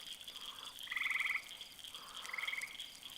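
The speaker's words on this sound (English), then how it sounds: "the frogs have died down. There's still a few. You know, the loudmouths." Frogs croak at night in two rapid pulsed bursts, a handful of calling frogs left after a louder chorus has died down, moderately near over a steady insect-like hiss.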